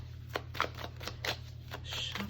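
Tarot cards being shuffled by hand, a run of soft, irregular riffling snaps and slides up close over a faint steady hum.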